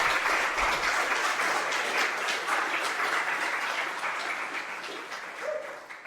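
Audience applause welcoming an architect to the stage, a dense, steady clapping from a full room that slowly tapers toward the end.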